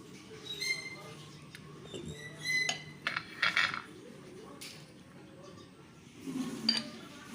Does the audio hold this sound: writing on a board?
no